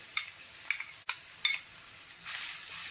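Vegetables and cabbage fry over high flame for chicken chow mein, a faint, airy sizzle broken by a few sharp clicks and scrapes of a utensil against the pan.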